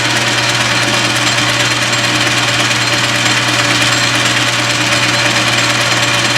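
A lathe cuts a plastic screw down to a smaller diameter, giving a steady, loud machine drone with a constant low hum and broadband hiss that runs without a break.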